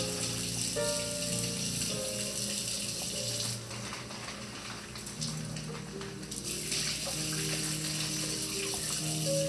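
Thawed crawfish juice poured into a cooking pot, a continuous splashing, gushing pour that runs steadily through the whole stretch, loud and close with no voices.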